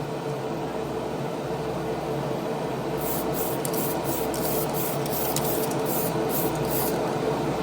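A spray can lays a light tack coat of paint, giving a steady, continuous close hiss that runs unbroken throughout, with faint higher pulses appearing partway through.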